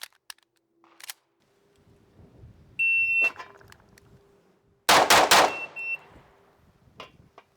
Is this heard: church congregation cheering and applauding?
no